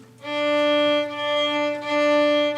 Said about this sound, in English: Natalie, can you play D?